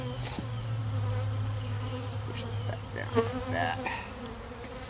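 Honey bees buzz around a beehive outdoors in summer, a steady close droning hum with a few louder passes of individual bees.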